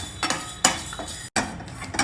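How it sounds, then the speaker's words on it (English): Methi seeds dry roasting over a low flame in a pan give off light scraping and clinking as they are stirred with a utensil, a few close, irregular strokes with no talk. "take about half a teaspoon of methi seeds and dry roast them also over a low flame till it becomes reddish"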